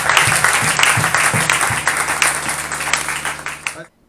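Church congregation applauding, a loud sustained round of clapping with crowd noise and voices mixed in that fades out near the end.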